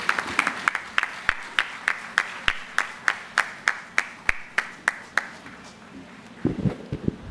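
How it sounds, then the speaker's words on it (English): Applause welcomes a Member of Parliament at a home ownership celebration in La Horquetta: a few people clapping in a steady, evenly spaced rhythm, fairly close, thinning out near the end. "join me with a big round of applause"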